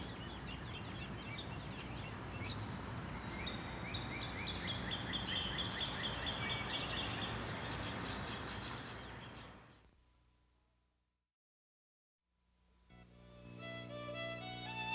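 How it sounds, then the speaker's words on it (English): Songbirds sing on a spring morning in the East Tennessee woodlands, many overlapping chirps and trills over a dense outdoor bed, fading out to silence before a new scene begins with music. "It is spring, and the early birds are singing in East Tennessee."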